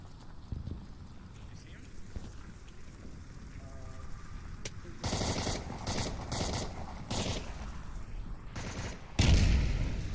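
Gunfire in an Onward VR competitive match: sharp bursts of rapid automatic shots break out over quieter game ambience, with a commentator's voice talking over the action.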